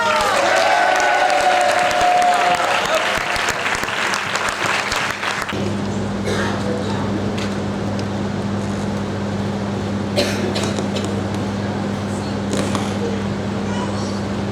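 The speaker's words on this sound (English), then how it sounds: "Can we have a huge round of applause for Miltonian Rama Goenka?" An audience at a graduation acceptance ceremony in Kolkata bursts into loud applause for a graduate, with voices over the opening clapping before it gives way to a steady hum and scattered room noise.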